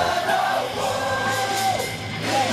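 Dense crowd cheering and yelling at a Korean street rally for the World Cup during a performance, a steady loud roar of many voices with whoops rising over it, no pauses throughout.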